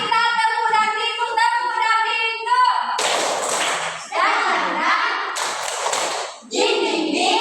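A classroom of children claps hands together in bursts of rhythmic, fairly loud clapping, preceded by a sung or chanted passage and mixed with young voices.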